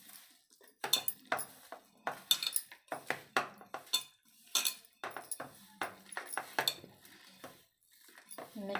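A spoon scrapes and clinks against a bowl while maize roti crumbs are mixed with fresh homemade butter, a string of close, bright metallic taps and scrapes in an irregular rhythm with brief pauses.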